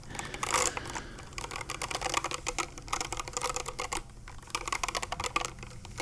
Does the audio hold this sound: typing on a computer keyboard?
yes